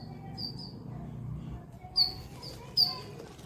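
Small birds visiting for food give a few high, brief chirps, two sharper tweets standing out near the end, over a low background hum with no talking.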